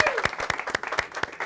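A comedy improv show audience gives a volunteer a round of applause, brisk clapping from a crowd with sharp individual claps standing out, loud and continuous throughout.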